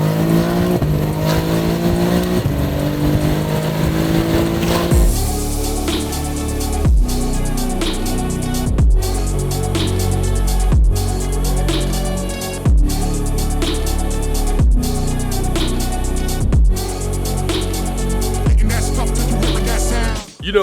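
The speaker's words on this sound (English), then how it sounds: "the turbo has the T51 compressor mod, so this thing sounds like a jet" BMW G80 M3 with a T51 compressor-modified turbo and a stock motor accelerating hard on an airstrip, a loud rising engine roar with jet-like turbo whine, cut by a regular series of sharp gear shifts.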